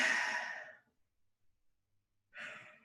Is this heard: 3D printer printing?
no